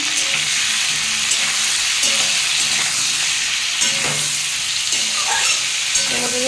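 Tomatoes frying in a pan for tomato masoor dal give a constant, dense sizzle with soft spatula stirs and scrapes underneath, close and fairly loud throughout, no voices.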